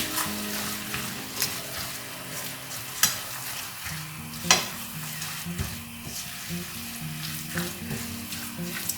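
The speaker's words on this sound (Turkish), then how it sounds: "Şöyle bir karıştırıyorum" A green tomato stuffing mixture cooks in a pan under a steady sizzle while a spoon stirs it, giving several scraping knocks at uneven intervals, close by with no voices.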